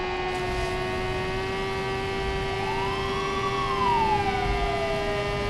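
Wailing police siren in a video game, a steady loud electronic tone with a slowly rising and falling sweep, continuous and alone with no talk.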